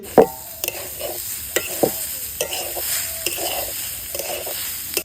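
Grated coconut frying in a kadai for mango laddu, with a steady hiss under repeated scraping and clinking strokes of a spatula against the pan.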